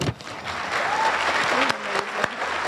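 An audience applauds loudly and steadily during a standing ovation at a 2016 school gala speech, with a few voices faintly audible under the dense clapping.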